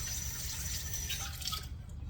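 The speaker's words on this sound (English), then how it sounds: "2 cups of cold water put into a bowl." Cold water, two cups' worth, poured into a kitchen bowl, a steady continuous splashing and trickling stream close by that runs evenly and tapers off at the end.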